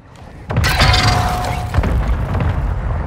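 Mortar strike in Call of Duty landing as a heavy boom with a shattering crack, followed by a sustained rumbling roar and a second thud, loud and close.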